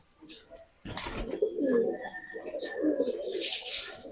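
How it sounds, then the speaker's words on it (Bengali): Pet pigeons kept at home coo softly in low, rolling bursts, close by, with a sharp bump and some brief chirps and rustling between the calls. "এটা হচ্ছে আমার বাসার অনেক প্রিয় কবুতর"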